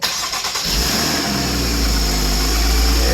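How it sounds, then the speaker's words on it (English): A Porsche Cayman engine cranks and fires up, then settles into a loud, steady low idle close by, with no talk. "So now it'll let me start it"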